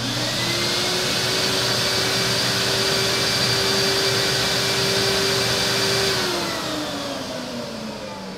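MD SilentMaster S900 central vacuum unit running in a garage, heard from about two meters away: a steady, loud motor whine with a rushing airflow roar that holds evenly, then drops in pitch and fades slightly as it winds down near the end.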